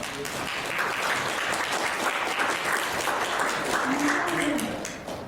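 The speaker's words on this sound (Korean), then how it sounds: "실상 이용만 원장님 큰 박수로 주시기 바랍니다" A conference audience applauds a dental implant researcher receiving a top award at Seoul National University, with sustained, even clapping from a large room that fades slightly at the end.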